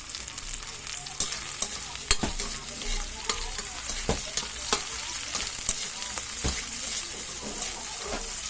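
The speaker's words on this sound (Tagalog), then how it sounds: "Mix natin guys yung chili green." Green chili and tomatoes stir-fry in a pan, a soft continuous sizzle broken by sharp, irregular clicks and scrapes of a utensil against the pan, with no voices.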